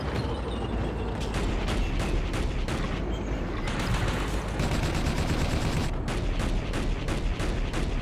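Dense, sustained automatic gunfire in a Battlefield modification set in Yugoslavia, bursts of machine gun fire rattling almost continuously with heavy battle noise and occasional booms, loud and close throughout.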